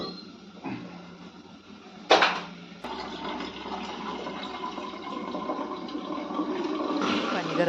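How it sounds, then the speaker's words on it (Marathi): Hot water poured from a vessel into a pot of mutton for biryani, a steady close splashing pour that swells after a sharp clatter and keeps running to the end. "पाणी गरम झालेलं आहे. हे पाणी आपण टाकू"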